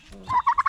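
Turkey gobbling close by in a short, loud burst of three rapid warbling pulses, with no talk.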